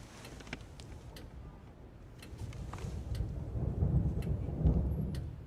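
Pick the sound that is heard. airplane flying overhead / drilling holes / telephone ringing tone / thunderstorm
thunderstorm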